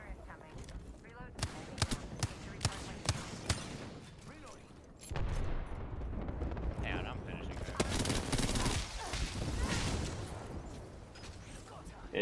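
Rapid bursts of gunfire in the PC battle royale game Apex Legends crack repeatedly, with the early shots spaced and punchy and a denser, sustained barrage later, all close and loud with a person talking over parts of it.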